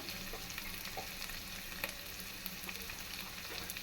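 Ground spices for a Pabda fish curry, including cumin paste, salt, dry chili and turmeric powder with a splash of water, fry in oil in a pan with a soft, steady sizzle and occasional scraping stirs.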